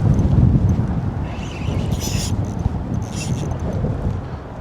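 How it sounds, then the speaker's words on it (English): Wind picks up near a bridge during spring striper fishing. It comes as a steady, low, rumbling buffet against the microphone, heaviest at the start, with a few faint higher swishes. "Wind's picking up."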